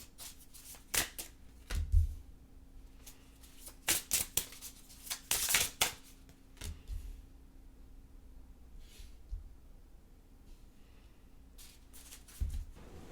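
Pick-a-card reading cards are shuffled up close in short bursts of riffling and flicking, with pauses between, alone and without speech.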